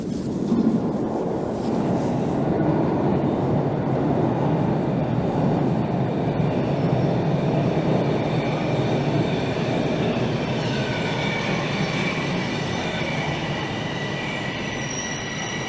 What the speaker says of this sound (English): here rolls in a northbound train